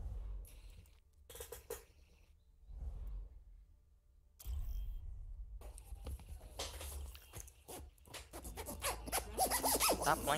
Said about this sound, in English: Stop playing with the zipper.